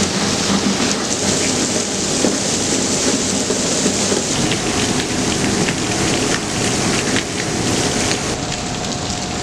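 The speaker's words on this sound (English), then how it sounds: "it's pouring down rain" Heavy rain pours down on a St. Louis street, a loud, dense, steady roar of drops splashing on pavement and surfaces, continuous throughout with no voices.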